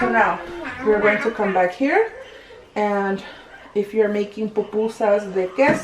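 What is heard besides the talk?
No everyday noise stands out behind the speech.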